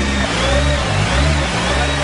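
A Nissan GT-R engine revs hard on a test drive, loud and close, its deep throaty note surging and dipping in repeated pulses with no talking.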